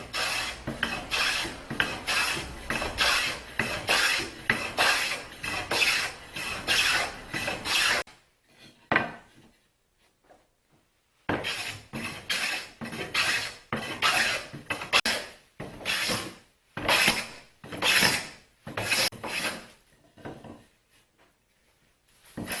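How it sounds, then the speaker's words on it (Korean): A hand plane shaving a square hardwood blank into an octagonal toolbox handle during a woodworking class, with rhythmic rasping strokes in two bursts separated by a pause, close and fairly loud. "손잡이를 깎아 보겠습니다."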